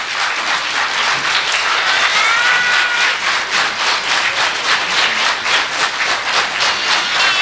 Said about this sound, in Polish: Gorące, gorące brawa!